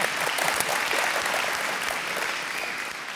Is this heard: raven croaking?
no